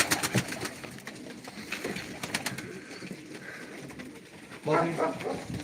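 Pigeons coo and call at a live pigeon auction of breeding and play birds, a steady murmur of soft cooing with brief sharper calls, while people talk close by throughout.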